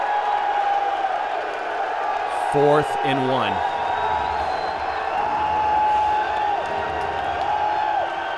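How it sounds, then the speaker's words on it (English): Crowd at a Lingerie Football League game between Baltimore Charm and Omaha Heart roars and cheers steadily, with a brief louder burst near the middle, under an announcer's running commentary. "This crowd is going nuts"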